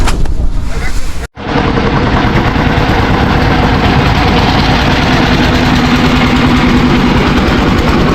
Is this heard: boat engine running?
yes